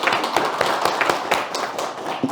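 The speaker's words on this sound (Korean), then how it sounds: "자, 박수." A church congregation clapping during a Sunday worship service, brisk overlapping claps in a steady rhythm, loud and close, filling the room.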